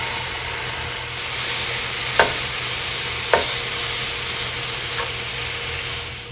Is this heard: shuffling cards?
no